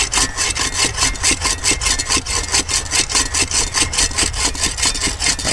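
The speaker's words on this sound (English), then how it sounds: "Kind of cutting through the knot of the tree." A Sven-Saw folding bow saw cuts through a knot in a partly rotten hardwood tree, its steady rasping back-and-forth strokes loud, close and even in rhythm with no talking.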